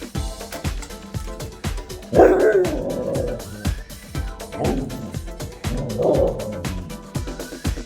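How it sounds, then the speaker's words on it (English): A husky lets out several drawn-out, wavering howls and yips at close range, with pauses between each call. "Dog staring at me and howling"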